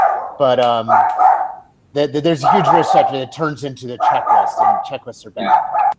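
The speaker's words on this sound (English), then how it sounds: "I'm sorry about the barking" A dog barks and yips loudly and repeatedly in the background of an online meeting session, the bursts overlapping with a person speaking over them.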